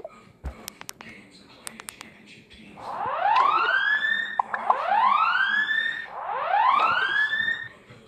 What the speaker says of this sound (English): the siren means, um, an intruder's coming